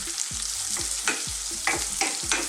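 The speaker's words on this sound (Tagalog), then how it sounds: "Again, lulutuin lang po natin yung ating sibuyas." Onions sautéing in a pan for ginataang papaya, a steady sizzle of frying with repeated stirring scrapes and spatula knocks at a close, moderate level, no voices.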